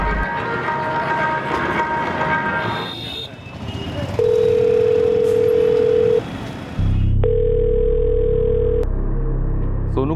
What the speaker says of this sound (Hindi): रिंग तो जा रही है।